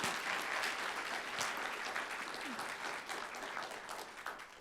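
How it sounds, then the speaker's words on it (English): Steady applause from a crowd fills the room, dense clapping that holds for several seconds before slightly thinning toward the end. "Let's have another round of applause and thanks."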